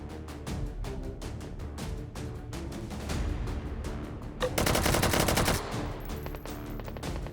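Rapid automatic gunfire from firearms in the VR shooter H3VR, loud dense bursts running almost continuously with a harsher, heavier barrage in the middle, no talking over it.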